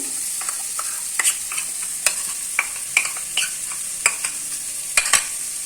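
Poppy seeds fry with potatoes and onions in a pan, a soft sizzle under repeated sharp scrapes and clicks of a spatula stirring at an uneven rhythm, with no voices.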